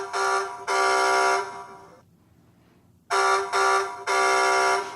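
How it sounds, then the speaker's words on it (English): A 2014 Hess toy truck horn sounds in loud, bright electronic blasts, two short honks, a pause, then two more, alone. "You get the horn sound, and it's a little dispersed."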